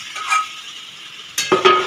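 Mutton pieces dropped into a wok of fried onions, a soft sizzle with scraping stir strokes, then a louder burst of frying and clinks near the end, no talk.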